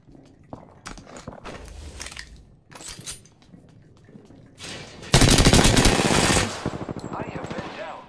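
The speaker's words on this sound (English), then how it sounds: "The enemies are shooting at me." Enemy gunfire in the battle royale game Apex Legends: scattered single shots and short bursts, then a loud sustained stretch of rapid automatic fire near the middle, with footstep-like clatter between.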